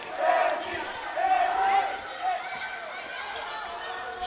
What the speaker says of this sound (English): And there's that cheering starting up for Mexico